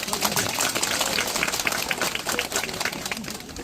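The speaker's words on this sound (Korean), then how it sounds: "큰 박수 부탁드립니다." Dense audience applause at a barefoot-walking club launch ceremony in Ulsan's Jung-gu district, a steady crackling wash of many hands clapping that holds at an even level for the whole stretch.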